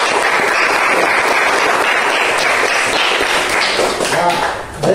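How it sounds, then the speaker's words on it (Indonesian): A classroom applauds a group that has just presented, a dense, loud burst of many hands clapping together, fading near the end, with voices mixed in. "beri tepuk tangan untuk kelompok"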